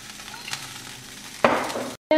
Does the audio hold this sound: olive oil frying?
yes